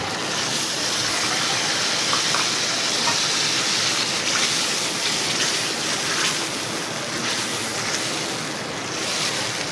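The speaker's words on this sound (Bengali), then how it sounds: "এখন মাছগুলোর ভিতরে দিয়ে দিব কষানোর জন্য" Tengra fish frying in spices, a dense steady sizzle with soft crackle throughout, fairly loud and close, no voices.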